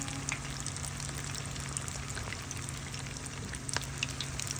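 Bourek fry in a pan with a steady, dense sizzle and crackle of hot oil, with faint scattered pops and no voices over it.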